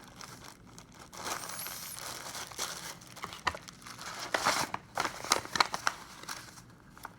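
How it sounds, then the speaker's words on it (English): A plastic bag crinkles and rustles up close as rock samples are packed into it for a lab kit, steady crackling that bursts into sharper crumples toward the end. "you carefully put your samples back in the plastic bag and put the plastic bag in the envelope"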